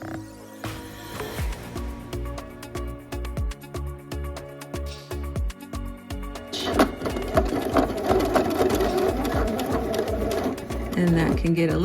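A sewing machine runs top stitching along a seam on a Butterick 6848 garment, its needle chattering in rapid repeated bursts with short pauses, then a steadier, louder run near the end; a person talks intermittently over it.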